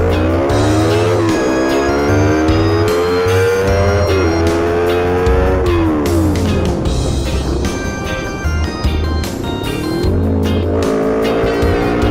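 A 2018 Honda CBR250RR motorcycle engine on a test ride, revving hard through rising and falling gear pulls, loud and close with a rasping exhaust, no talking.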